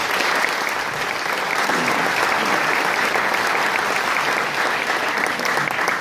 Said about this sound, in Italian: al momento il saluto e l'applauso per Gianfranco.